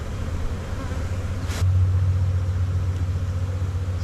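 Honey bees swarm over hive frames during an inspection, filling the air with a steady close buzz, and a lower droning hum swells in partway through.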